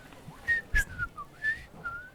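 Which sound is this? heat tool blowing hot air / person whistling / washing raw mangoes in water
person whistling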